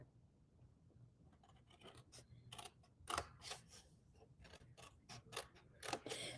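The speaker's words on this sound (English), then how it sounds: "And then on the bottom, we're going to cut these up." Scissors snipping through paper while making handmade Valentine's Day cards, a series of short, quiet cuts in irregular rhythm, close and alone with no talking.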